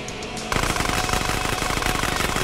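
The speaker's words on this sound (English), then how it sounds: "Assholes are shooting at us too." Machine gun fire in the video game Grand Theft Auto San Andreas, a loud sustained burst of rapid, evenly spaced shots that starts abruptly after a brief quieter moment and runs to the end.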